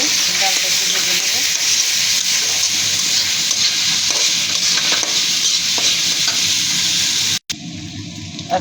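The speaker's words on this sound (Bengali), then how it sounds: "ডাল আগে থেকে দিয়ে রেখেছি, ডালটা একটু ভেজে নেব।" Lentils fry with chopped onions and chilies in a pan, giving a loud, close, continuous sizzle with steady stirring scrapes, then a brief cut near the end before the sizzling resumes.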